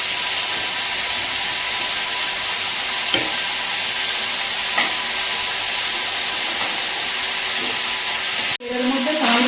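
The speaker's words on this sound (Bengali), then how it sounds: "এর মধ্যে কাঁকরোলটা ভেজে নেবে।" Teasel gourd frying in leftover fish oil gives a steady, close sizzling hiss that runs unbroken for most of the stretch, with a few faint clicks, then drops off sharply near the end.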